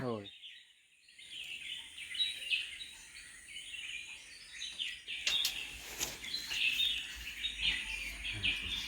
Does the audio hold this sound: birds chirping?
yes